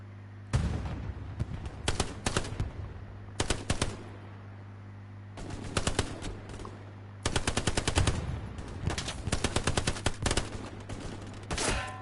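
Machine gun fire in the World War II shooter game Hell Let Loose rattles in several sharp, rapid bursts, some long and sustained, over a steady low hum, with quieter gaps between volleys.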